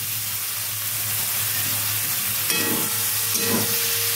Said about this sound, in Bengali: নাড়তে থাকবো এইভাবে, যাতে বাঁধাকপির ভিতরে যে রসটা আছে সেটাও বেরিয়ে যাবে এবং বাঁধাকপিটাও ভাজা ভাজা হবে